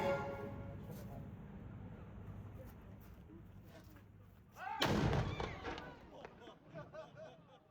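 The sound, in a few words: daily cannon firing at Castle Cornet, Guernsey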